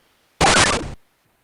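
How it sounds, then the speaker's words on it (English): A short, loud burst of noise for a pico-8 game explosion, meant to resemble a water drop exploding; a single half-second crunchy blast that cuts off quickly into silence. "I'm trying to make a cool explosion sound."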